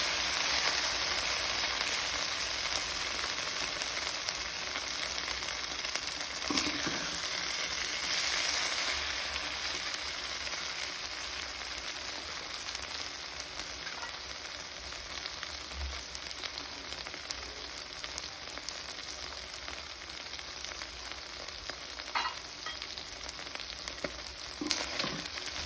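Purefoods sisig fries in a pan, a constant loud sizzle and crackle like rain on a surface, continuing unbroken with occasional pops and faint stirring.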